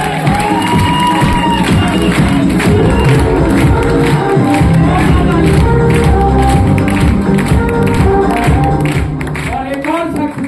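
Loud, dense crowd noise of cheering and clapping from an audience at a leadership motivational talk, sustained for the whole stretch, with shouts and bursts of voices over constant applause.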